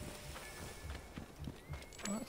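Horse hooves clip-clop in a quick, uneven trot in the video game Assassin's Creed Origins, fairly faint under game ambience, with a voice speaking over them.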